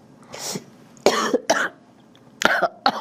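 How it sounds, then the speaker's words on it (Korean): Several separate coughs from a man in a studio interview setting, loud and close, coming in short bursts with brief pauses between them. "기침이 다 나오는데요"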